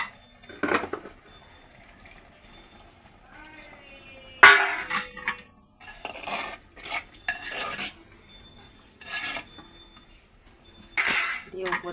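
A spoon stirs food in a cooking pot while making handi achar, with repeated scraping and clattering strokes against the metal in short bursts separated by pauses, close and fairly clear.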